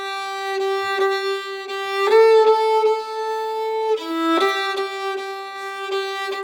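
A solo violin plays a melody in ternary rhythm, three eighth notes per beat, with bowed notes falling in lilting groups of three, close and clear with no talking.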